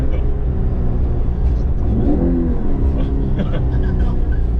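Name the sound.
electric Toyota AE86 conversion revving during heel-toe rev match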